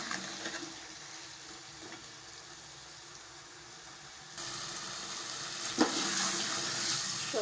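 Chopped turnips being sautéed in a cooking pan, a soft continuous frying hiss that grows louder partway through, with a few faint clinks of a utensil against the pan.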